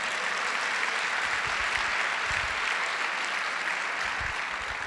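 Steady crowd applause fills a church service, a dense even wash of clapping with no pauses, moderately loud throughout.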